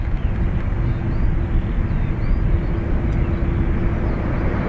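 A Ryanair airliner taking off from runway 28 right at Dublin Airport, bound for Bristol: a loud, steady jet engine roar fills the whole clip at close range, with no talk.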